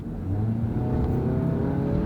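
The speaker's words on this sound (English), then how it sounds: "You can hear the engine straining" A Ford Transit van's engine strains under acceleration, a loud, steady low drone from inside the cab that holds through the whole stretch.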